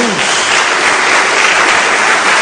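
Church congregation applauding for Jesus during a worship service, a loud, dense and continuous roar of clapping filling the space evenly from start to finish.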